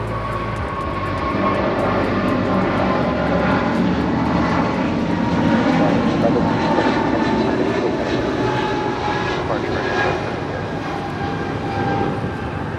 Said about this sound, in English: This is United Airlines 1170 departing to Honolulu on a 777-200.